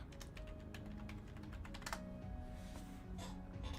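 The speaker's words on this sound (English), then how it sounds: "I can feel people judging my typing every time I type force start" Fingers tapping rapidly on a computer keyboard, a close run of quick irregular clicks and key presses continuing throughout without pause.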